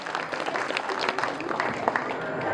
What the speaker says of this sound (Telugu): వేసిన వాళ్ళందరికీ మరొక్కసారి చప్పట్లు కొట్టి అభినందనలు తెలియజేయండి